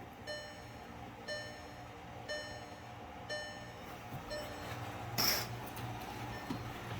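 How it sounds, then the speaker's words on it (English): Espar hydronic heater running on a 2012 VW Golf TDI: a steady low mechanical hum with a faint tick pulsing about once a second, plus a brief louder rushing burst near the end. "It sounds like a jet engine when it fires up."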